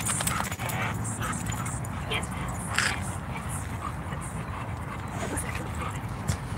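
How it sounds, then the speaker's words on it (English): Dogs whimper and yelp faintly after a minor scuffle, with steady noise and occasional sharp dog sounds throughout. "Dogs had a minor disagreement here."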